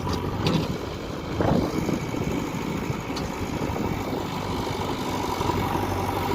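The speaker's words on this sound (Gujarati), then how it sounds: "આજે આપણે કાળી માટીમાં ટ્રેક્ટર ચાલુ છે અને જેસીબી દ્વારા જો માટી ભરાય છે ટ્રેક્ટરની અંદર" A tractor runs in a black-soil field while a JCB loads soil into it, giving a continuous rough engine rumble and broadband noise with a few brief clanks and no talking.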